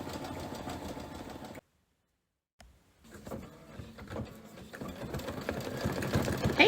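A Luminaire embroidery machine stitching a snowman design, a close mechanical whir with rapid needle chatter that stops abruptly, falls silent for about a second, then resumes and gradually grows busier and louder.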